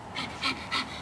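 A dog pants quickly and softly up close, giving three short breathy bursts in a second.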